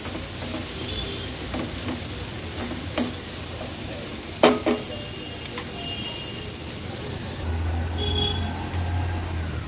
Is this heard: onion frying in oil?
yes